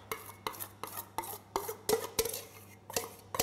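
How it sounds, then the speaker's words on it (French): A spoon stirs melted chocolate into chocolate cake batter in a bowl, a series of quiet, evenly spaced scraping strokes against the bowl's sides, close-up, with no talking. "Je mélange une dernière fois pour bien incorporer le chocolat."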